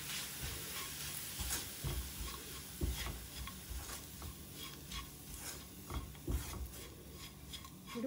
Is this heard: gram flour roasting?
yes